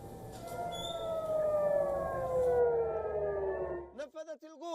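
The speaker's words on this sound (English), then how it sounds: "air raid sirens which were sounded in Jerusalem and Tel Aviv" Air raid sirens wailing in Jerusalem and Tel Aviv, a loud sustained rising-and-falling civil defense tone that slides downward and cuts off, after which a voice speaks.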